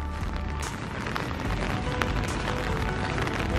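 A flooded river rushes past during rain, making a constant broad roar of churning water with scattered splashes and no voices.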